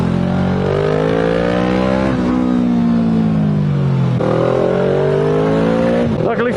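A motorbike engine on the Stelvio Pass revs up, climbs in pitch, drops back and rises again, loud and close and running without a break.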